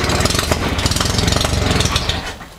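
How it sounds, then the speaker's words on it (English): A car engine catches after cranking on a new Chinese battery and runs with a fast, rough, pulsing chug that stays loud and close before easing off at the end. "Engine starts beautifully"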